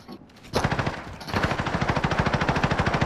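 Rapid automatic gunfire in a first-person shooter game, a short opening burst followed by a steady, loud stream of evenly spaced shots, close and alone without talk.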